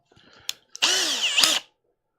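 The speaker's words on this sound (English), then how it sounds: "My drill's too big." A power drill whirs in a short burst of under a second, loud and close after a few small clicks and taps, then stops.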